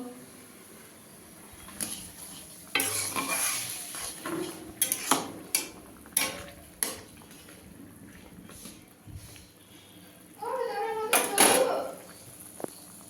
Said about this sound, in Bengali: এটা হচ্ছে টমেটো, খেজুর আর কিশমিশ দিয়ে চাটনি করছি